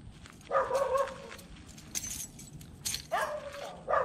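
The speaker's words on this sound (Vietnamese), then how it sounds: "Các bạn có nghe tiếng chó không?" A dog barks a few times at medium distance near a giant banyan tree, spaced yelps with quiet outdoor ambience between them and no talking.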